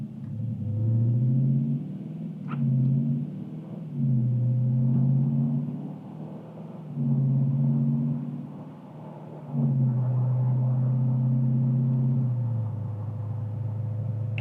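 A 2023 Dodge Challenger R/T Plus accelerates with its engine rising and falling through repeated surges, a loud, close, steady rumble and roar between shifts, with no talking.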